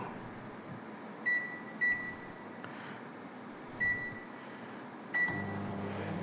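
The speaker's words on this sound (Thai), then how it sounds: "เราก็จะเอามาต้มในไมโครเวฟ ก็จะใช้ไฟกลางๆนะครับ" A microwave oven runs at medium power heating agar medium, with a steady close hum, several short electronic beeps and a change in tone near the end.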